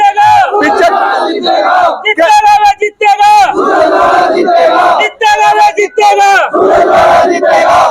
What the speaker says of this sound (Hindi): दादा की नारे लगने शुरू हो जाते हैं